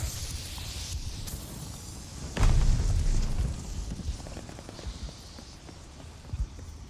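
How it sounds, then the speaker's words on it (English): A grenade in Call of Duty Vanguard bursts with a single heavy, booming explosion mid-way, its low rumble fading over a couple of seconds amid game noise. "Incoming grenade!"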